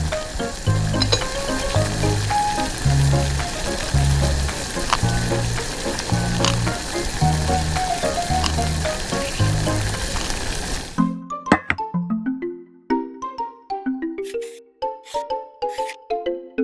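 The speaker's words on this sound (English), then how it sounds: "Boil for 20 minutes." Clams boiling in water in a tiny miniature kitchen pot, a steady sizzling, bubbling hiss with faint knocks for about eleven seconds, then giving way to a quieter, sparse patter of clinks and light taps.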